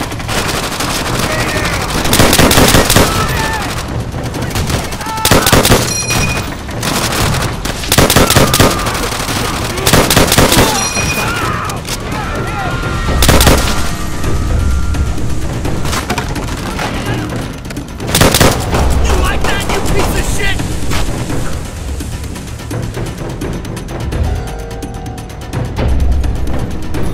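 Dense, loud automatic gunfire and explosions from the video game Call of Duty Vanguard, sustained bursts with heavy low booms throughout, mixed with faint shouting voices of game characters.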